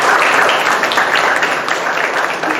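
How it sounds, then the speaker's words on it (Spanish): Dense, steady audience applause at a poetry book presentation, loud and sustained throughout with many hands clapping at once and no voices. "yo voy a pedir un fuerte aplauso para ambos y para ustedes también"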